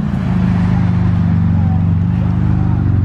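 A new green Bentley GT drives past with a steady low engine rumble at close range, heard at a hypercar gathering at sunset.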